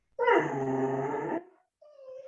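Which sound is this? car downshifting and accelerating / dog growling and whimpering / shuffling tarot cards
dog growling and whimpering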